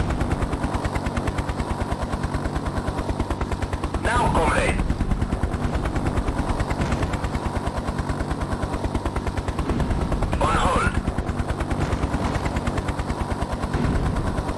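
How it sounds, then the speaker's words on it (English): Battlefield gunfire in the helicopter video game Hind, a dense, continuous rattle of rapid machine-gun bursts over constant rotor drone, with a couple of brief louder swells. "I don't know if you guys hear the fighting going on"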